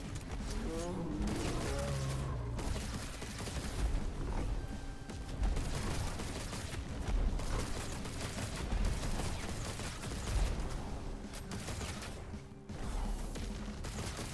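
Gunfire in a video game against a boss, rattling bursts of shots and crashes mixed with busy game effects and music, continuing for many seconds at a steady moderate level.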